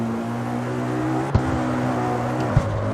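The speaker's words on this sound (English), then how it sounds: "you can also force brake by downshifting" A car engine in the CarX Street racing game drones steadily with rich harmonics, broken by two short, sharp blips as it downshifts to brake.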